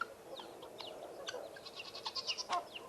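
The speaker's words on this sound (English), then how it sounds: "this is a golden comet rooster" Golden comet rooster, a white leghorn hybrid, giving a run of soft clucks and chirpy calls at moderate distance, growing busier toward the end amid faint farmyard background.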